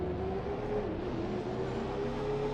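A car engine hums and revs steadily with a whining tone, sustained throughout the short clip.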